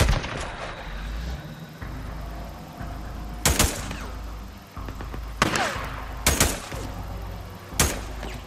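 Sharp gunshots ring out in the video game Days Gone, several loud single reports spaced a second or two apart over a low background rumble of the scene.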